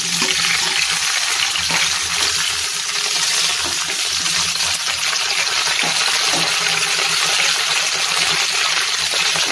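Cauliflower florets fry in about one and a half tablespoons of refined oil in a wok, giving a steady, close sizzle with some stirring scrapes throughout and no talking.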